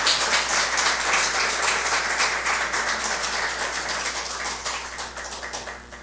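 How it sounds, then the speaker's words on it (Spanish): A church congregation at a Mass for the Solemnity of the Epiphany applauds a family before a blessing, with crisp, dense clapping that slowly fades over several seconds. "Le damos un aplauso a ellos, a ver."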